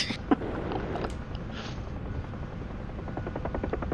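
UH-1 Huey helicopters fly in formation in the DCS combat flight simulator, a continuous rotor thump and turbine drone, steady and fairly close, with a brief click near the start and no speech.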